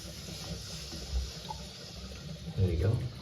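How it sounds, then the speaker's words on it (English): Water flowing through a repaired plumbing pipe, a faint, continuous gurgling trickle under background noise, swelling briefly near the end. "Straight away we're getting water coming through"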